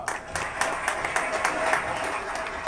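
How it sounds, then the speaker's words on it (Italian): An audience applauds on an Italian TV show as a Pulcinella performer is welcomed, a steady wash of clapping lasting a few seconds with voices talking over it. "Un applauso, eccolo qua."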